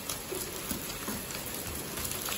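Rain falls steadily outdoors, a constant soft hiss of drops hitting the ground with faint patter, and no voices over it.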